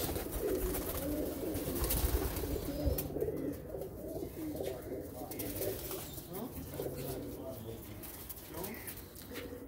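Pigeons coo in a loft, low murmuring calls running on for several seconds amid a busy background with some voices and shuffling nearby.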